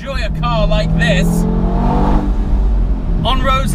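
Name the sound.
Audi TT RS soft top engine while driving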